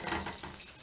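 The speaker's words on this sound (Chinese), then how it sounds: "然后等待生蚝水分略干且滋滋作响的时候即可夹出。" Garlic-topped oysters on a charcoal grill, sizzling and crackling in a short, close, hissy burst with no talking.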